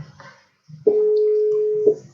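A steady telephone line tone holds for about a second while a call is being placed, sitting clearly above brief bits of low talk before and after.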